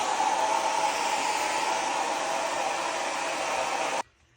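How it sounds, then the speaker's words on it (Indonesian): A hair dryer blows loud and steady, its airy roar unbroken for about four seconds before it cuts off abruptly into near silence. "Jadi kasih dia pakai hair dryer"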